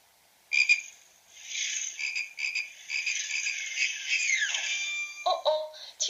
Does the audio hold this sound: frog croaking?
yes